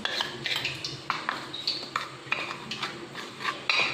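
A spoon stirs half a teaspoon of salt into cornflour in a bowl, close, light scraping and clinking strokes repeating rapidly for several seconds, with no talk.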